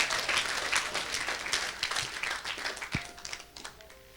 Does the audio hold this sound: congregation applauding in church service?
yes